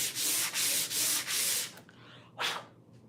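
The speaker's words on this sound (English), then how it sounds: "It's just 220 sandpaper." Hand sanding a salvaged table with 220 grit sandpaper: four rhythmic back-and-forth rasping strokes close up, then a pause and one final short stroke, with no talk.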